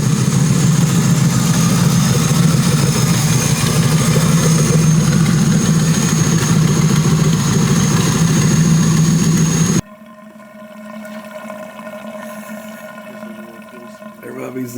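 A twincharged Ford Crown Victoria engine idles loudly and steadily with its supercharger removed, giving a deep continuous rumble that cuts out abruptly and leaves quieter background sound.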